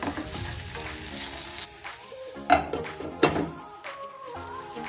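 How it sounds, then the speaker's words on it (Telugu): Capsicum and chillies frying and being stirred in a pan for an aloo omelette, a steady close sizzle broken by a few louder scraping stirs. "ఇప్పుడు వీటిని బాగా కలుపుకొని ఫ్రై చేసుకోవాలి"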